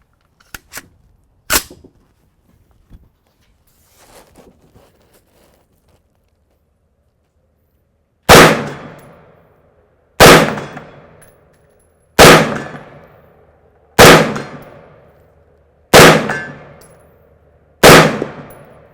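A 6.5 Creedmoor rifle firing at a steel target: a few quiet taps early, then six loud, sharp shots with ringing metallic clangs, spaced about two seconds apart and heard alone.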